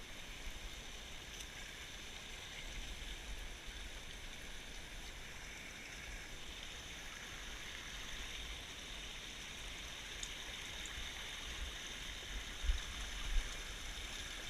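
A small stream flows steadily in a continuous soft wash of water, faint and even throughout, with no voices.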